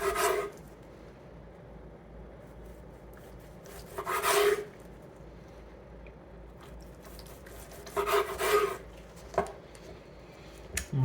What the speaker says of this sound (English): Let's take a few slices here.